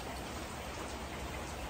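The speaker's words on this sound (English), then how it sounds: "It's a rainy day, man, a rainy day." Rain falls steadily outdoors, a soft, even hiss of drops pattering on surfaces, faint and continuous with no voices over it.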